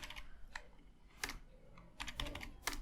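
JavaScript code is typed on a computer keyboard in quiet, irregular bursts of soft clicking key presses, close and faint, with short pauses between flurries.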